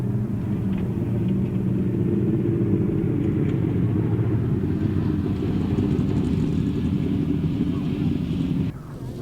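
Grasstrack racing motorcycles at a 2008 British Masters qualifier idle and rumble back to the start line for a restart, a steady, loud engine drone that continues throughout before dropping off at the end.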